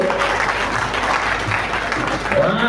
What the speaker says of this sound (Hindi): बहुत जोरदार ताली से स्वागत कीजिए।